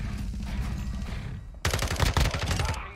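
A loud, rapid burst of submachine gun fire from the Call of Duty: Modern Warfare II multiplayer video game erupts suddenly after a quieter stretch of game background noise.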